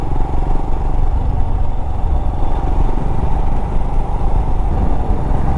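A motorcycle riding downhill from Ponmudi toward Tenkasi, a loud, steady low engine drone with wind rumble throughout and no voices.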